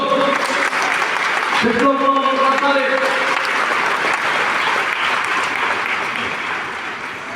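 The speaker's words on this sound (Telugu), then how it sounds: "కొట్టు చప్పట్లో కొట్టు" Congregation at a church service claps steadily, a dense sustained round of applause, with a preacher's voice briefly heard over it early on.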